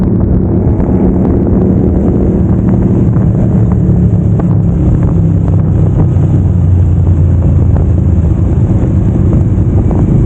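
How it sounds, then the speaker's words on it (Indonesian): Wind rushes past the rider of a Kawasaki motorcycle on a relaxed ride toward Imogiri: steady, loud buffeting roar across the microphone with a low engine drone underneath and no talking. "menikmati tekanan angin yang menerpa wajah gitu ya"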